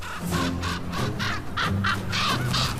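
Crows in the snowy far north cawing loudly and close, a rapid series of about ten harsh caws in quick succession.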